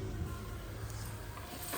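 Tadka spices frying in a pan for aloo matar, giving a steady, close sizzle with faint stirring scrapes throughout and no talking.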